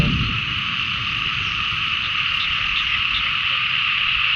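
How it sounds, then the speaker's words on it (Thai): Dense chorus of frogs croaking in a rice field in the morning, a steady continuous wall of calls with insects mixed in, loud and unbroken throughout. "เสียงกบเสียงเขียด"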